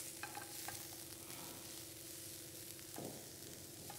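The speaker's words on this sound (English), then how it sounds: "Now we'll add our chopped spinach leaves, some salt as per your taste, some crushed pepper, and give it a nice mix." Chopped spinach leaves with salt and crushed pepper stirred in a pan, a soft steady scraping and faint sizzle running throughout at low volume, with a brief rustling burst near the end.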